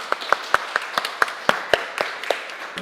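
Sparse clapping from a small audience for Freddie at a neighborhood gathering, distinct individual claps in an uneven rhythm, a dozen or so sharp hits.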